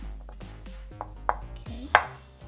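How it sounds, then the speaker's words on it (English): A knife slicing garlic cloves on a cutting board, a handful of irregular crisp taps growing sharper toward the end, close and alone. "we're gonna slice 2 and mince the smallest one"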